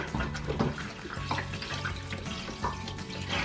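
Tap water runs and splashes while a cotton fat quarter is soaked for quilting, a close, steady trickle with small sloshing bursts.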